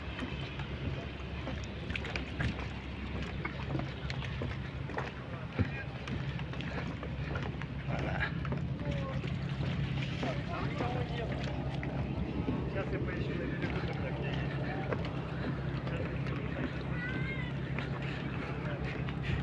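Motor boat ride on the sea off Vladivostok, a steady low engine hum with wind buffeting the microphone throughout, someone talking over it.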